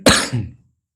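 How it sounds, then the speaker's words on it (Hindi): A single sharp, close cough is followed by a brief throat clear, from a speaker with a scratchy throat. It comes alone, with no other sound. "माफ कीजिएगा, थोड़ा खांसी हो गया"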